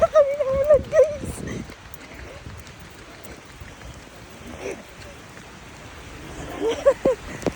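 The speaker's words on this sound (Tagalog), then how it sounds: "Nabasa kami ng ulan. Ay, sa dulo. Nandito na po yung inabutan ng ulan." Heavy rain with wind patters steadily on surfaces while people talk and shout nearby, voices loud at the start and end over the constant downpour.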